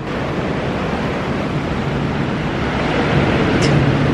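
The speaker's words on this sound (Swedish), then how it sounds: "vi ska göra sound healing till ljudet av vågor" Steady ocean waves wash in continuously, a loud, close surf roar with a wind-like hiss running through it during a sound healing session by the sea.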